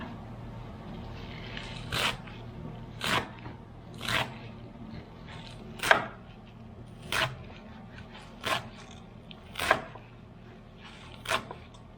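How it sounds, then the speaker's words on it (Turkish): A knife chops greens and vegetables such as chard on a board in regular crunchy strokes, about one each second, fairly quiet against a low background hum. "ondan sonra doğrama aşamasına geçeriz"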